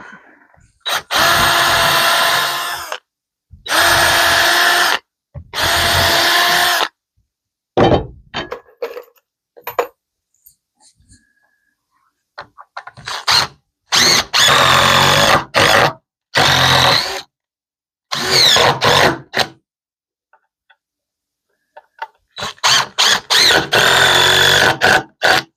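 A power drill runs in loud bursts of a few seconds each while a wooden stepstool is being built, with short thunks and quiet pauses between the runs and no talking.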